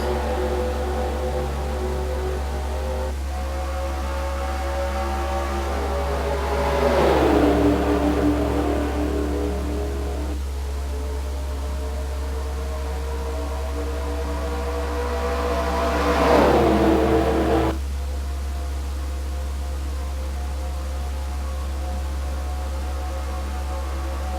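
NASCAR race cars at the start of an All-Star race in a video game produce a steady engine drone under a constant low hum. Two louder passes swell and fade as the cars sweep by, and the pitch falls after each.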